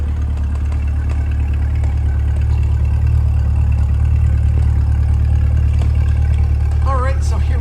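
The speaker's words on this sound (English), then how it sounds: "the exhaust at idle here" A 2024 Chevrolet Corvette 3LT convertible's 6.2L V8 exhaust idles steadily with a deep, constant low rumble throughout, and a brief higher-pitched chirp near the end.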